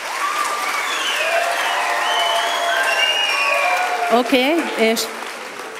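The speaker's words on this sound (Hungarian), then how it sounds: "egy nagy tapsot." A big round of applause fills the hall at a Devecser music school spring concert, dense and steady, while a voice speaks over it.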